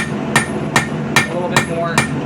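Five evenly spaced hammer blows ring out on a small seax knife blade being forged flat, each a sharp metallic strike with a brief ring, close and loud with no talk.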